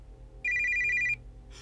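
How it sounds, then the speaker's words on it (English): An old telephone ringing in an office in an animatronic horror video game, one short, loud, bright electronic ring burst standing alone over a low background hum. "The telephone is ringing."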